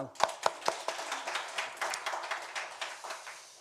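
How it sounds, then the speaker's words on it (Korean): A congregation at a Sunday church service claps together. A few distinct, evenly spaced claps quickly build into a fuller, continuous round of applause, heard fairly softly with some voices underneath. "우리 같이 박수로"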